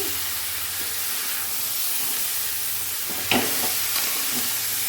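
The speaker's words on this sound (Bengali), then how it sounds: "আবার একটু নেড়ে দিচ্ছি।" Pumpkin and yardlong beans fry in a pan with a constant hissing sizzle, broken by a sharp scrape and clatter of the spoon as the vegetables are stirred near the end.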